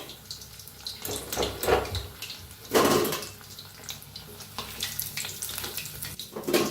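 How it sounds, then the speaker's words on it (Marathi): Chicken 65 pieces frying in hot oil in a pan over a low gas flame, a continuous soft bubbling sizzle that swells and eases in waves, with no talk over it. "गॅस कमी करूनच तळा म्हणजे छान असे आतपातून तळतात"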